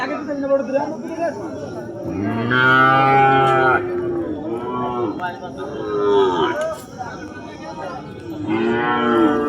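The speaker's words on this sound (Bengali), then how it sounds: "এই যে একটা বিদেশি গরু, এই গরুটার নাম আমি জানি না" A foreign-breed cow at a cattle market lows in several long, loud moos that come close together, with crowd chatter and people talking in the background.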